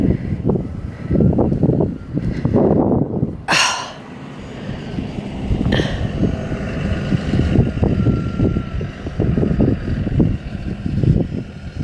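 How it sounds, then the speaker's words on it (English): A big farm tractor rumbles past on open farmland, a broad, loud, fluctuating engine roar that swells as it approaches and holds near, with a couple of brief sharp noises partway through and no talking. "Big tractor coming, he might be spraying something."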